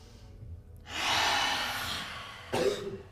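During a yoga breathing exercise, a person lets out a long, breathy exhale followed by a short, sharp cough, close and moderately soft.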